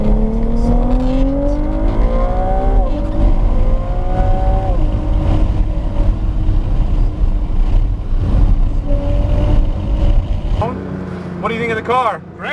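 A race car accelerates at full power toward yellow cones, its engine note climbing in repeated rising sweeps as it shifts, with people talking over the engine throughout.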